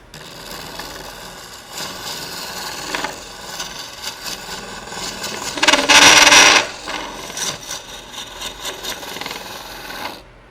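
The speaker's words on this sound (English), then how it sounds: "So we'll keep on hollowing." A tool hollows a wooden piece on a woodturning lathe, giving a close, continuous scraping rasp with rhythmic ticks. The sound swells into a louder, harsher burst midway, then settles back to steady cutting.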